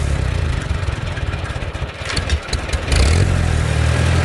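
A motorcycle engine fitted with a Chinese carburetor idles close by, a loud steady throbbing putter that dips briefly and then picks up slightly stronger toward the end.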